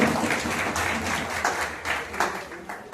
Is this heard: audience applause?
yes